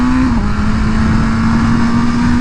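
A BMW M1000R motorcycle accelerates hard in second gear, its engine note loud and close and holding a steady, slowly climbing drone throughout.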